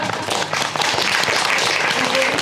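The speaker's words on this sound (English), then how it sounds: "Ladies and gentlemen, let's have a big round of applause for Benjamin." A live audience at an onstage conversation event claps warmly for a few seconds, with a faint voice or two mixed into the applause.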